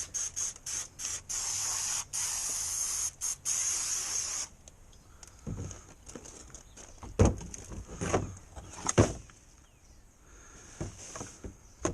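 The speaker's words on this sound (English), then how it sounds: "Brake parts cleaner. Magic stuff." Brake parts cleaner blasts onto grimy Mercedes E320 engine parts (M112 V6, W210 chassis) in a loud, steady hissing spray with brief breaks for about four seconds, followed by quieter clunks and handling noises.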